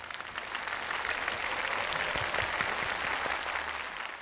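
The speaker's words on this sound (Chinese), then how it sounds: "所以你们把掌声送给你们自己吧" A studio audience at a Street Dance of China show applauds in a dense, even wash of clapping that holds steady from start to finish, with no voices on top.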